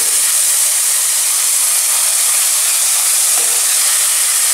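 Spice paste sizzling and frying in oil over a raised gas flame while a fish curry is cooked, a steady broad hiss throughout with no talk.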